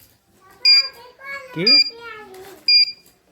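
The buzzer of an electric bicycle's dipper alarm circuit, powered by a 12 V supply, gives three short, sharp beeps about a second apart, with someone speaking between and under them.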